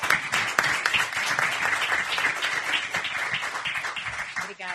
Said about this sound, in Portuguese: queria que vocês me ajudassem a recebê-la com uma salva de palmas